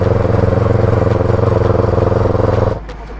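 A heavy Royal Enfield Bullet motorcycle thumps along on a night ride, its loud, steady exhaust pulse close and continuous before cutting down sharply near the end.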